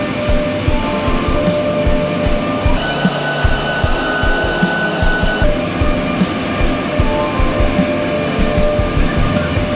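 A bale plucker in a cotton spinning mill runs loud and steady, a dense mechanical whir and rattle with airflow hiss as it strips fibre tufts from bales, continuous throughout with no talk.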